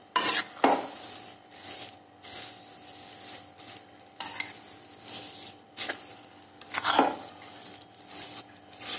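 A carrot and sugar mixture for carrot laddu being stirred in a pan: irregular scraping and clinking of a spoon against metal over a low sizzle, close and moderate in level, with no talking.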